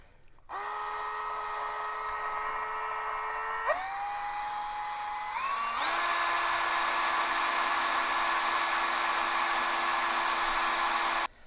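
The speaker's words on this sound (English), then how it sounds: "a 9 mil hole I'm going to drill in here" A hand drill bores a 9 mm hole in a 1:16 scale model boat, a loud steady high whine that jumps up in pitch twice as the speed increases, running continuously for about eleven seconds and then cutting off abruptly.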